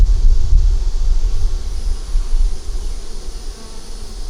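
Honey bees buzz in a low, steady drone close by in an 8-frame hive, with wind rumbling across the microphone throughout.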